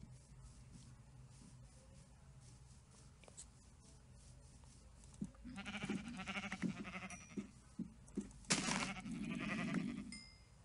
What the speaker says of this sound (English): I just killed lots of sheep.